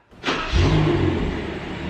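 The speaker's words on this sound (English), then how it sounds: "it's got a little display that says engine start. We're gonna go ahead and click that." A 2018 BMW M760i engine starts by remote key: a quick starter crank bursts into a loud, broadband roar that settles into a steady idle rumble, with no voices.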